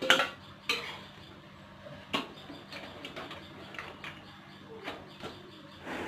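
A lid comes off a cooking pot of boiled meat, followed by scattered metallic clanks and scrapes of pot and utensils, quiet and close, with no one speaking.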